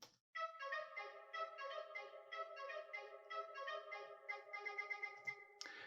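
The rebel radio broadcast theme from the game Star Renegades plays as a faint, bright, plucked electronic melody of rapid repeated notes, ending with a short burst.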